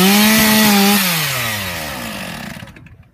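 A chainsaw engine revs loudly, then its tone drops and bogs down as the chain cuts into protective safety chaps, fading toward the end.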